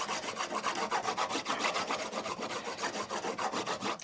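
Steady back-and-forth rubbing of honing compound onto a homemade strop, a dense rasping scrape repeating in fast even strokes, close and continuous with no talking.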